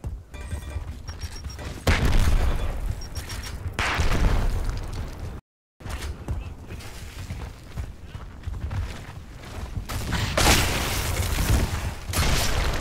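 Frag grenade blasts and rolling gunfire in Gears of War multiplayer, loud sustained booms and bursts filling most of the clip, cut by a brief silent gap midway, with no talking.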